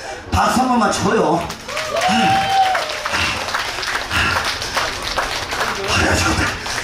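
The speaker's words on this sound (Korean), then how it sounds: "이쪽 동네 박수 한 번만 쳐주시오" A festival crowd at an outdoor folk performance breaks into lively applause, dense clapping mixed with cheers and shouts, while a performer's amplified voice calls out over it.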